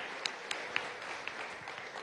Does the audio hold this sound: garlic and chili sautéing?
no